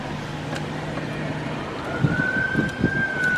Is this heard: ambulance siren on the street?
yes